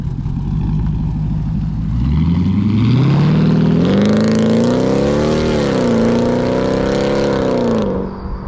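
A loud, throaty Jeep SRT8 engine with a muffler delete and stock manifolds idles then revs up, rising in pitch and holding a deep, rumbling roar before easing back down.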